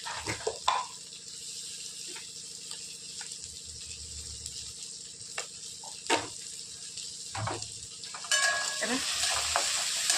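Tomato and green peas sauté quietly in a pan with salt, a soft low sizzle broken by occasional spatula scrapes and taps, then a louder burst of frying near the end; no one speaks.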